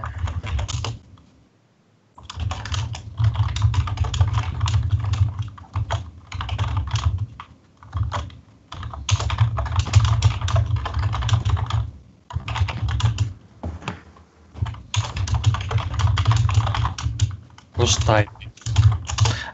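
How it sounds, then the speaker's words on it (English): Computer keyboard typing during an online Battlestar Galactica board game session, a busy stream of close key clicks in bursts separated by short pauses, with no talk over it. "I'm typing to a girl here."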